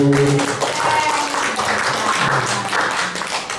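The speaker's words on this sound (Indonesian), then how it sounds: "tepuk tangan Bapak Ibu" Applause from an audience at an Indonesian teachers' mentoring session, a dense steady patter of claps filling the whole stretch, with faint voices and a brief tonal sound at the very start.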